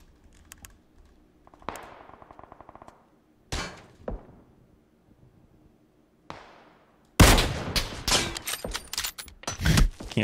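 Sharp bursts of rifle fire from a weapon fitted with a 15x scope in PUBG, scattered cracks and clatters followed by a loud cluster of rapid shots near the end.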